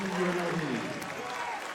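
Home crowd cheering and applauding at a college basketball game, Portland Pilots against UNLV, a steady roar of claps and voices under a commentator's talk.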